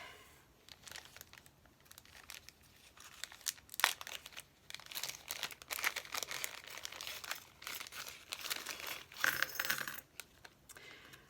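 A plastic bag from a journal kit crinkles and rustles in close, irregular bursts as its contents are handled, with small clicks and taps between the bursts.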